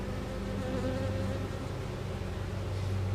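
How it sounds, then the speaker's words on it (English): A honeybee swarm settling and festooning as it prepares to build comb, giving a dense, steady, close-up buzz of many bees that fills the whole stretch with no voices. "That's a good swarm."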